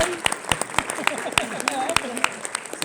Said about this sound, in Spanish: ¿No hay aplausos?